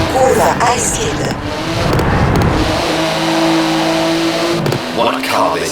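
Porsche GT2 RS with a 3.8-litre twin-turbo flat-six in Forza Horizon 4, its engine revving and roaring loudly and continuously, rising and settling through the run, with a voice talking over it.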